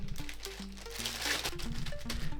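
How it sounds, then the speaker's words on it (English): Pastry dough is being put into a plastic bag, giving close crinkling and rustling of plastic in quick irregular bursts throughout, with a low steady hum underneath. "now I'm going to put the pastry into a plastic bag"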